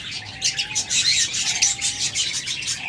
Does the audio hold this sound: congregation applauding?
no